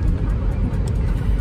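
Inside a riding car, a loud steady low rumble of engine and road noise fills the cabin with no talking.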